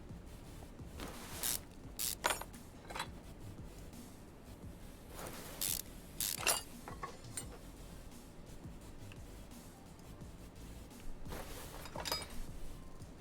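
A mechanic strips parts off a car, working back toward the timing cover in Car Mechanic Simulator 2021: scattered sharp clicks and clinks come in several short bursts over a low steady background, with no talking.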